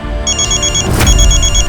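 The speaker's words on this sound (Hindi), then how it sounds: "अच्छा, तुम्हारा फोन बज रहा है?" A mobile phone rings in a home during a family meal, its repeating electronic ringtone chiming in two bursts, loud and close, with a brief clatter in between and no talking.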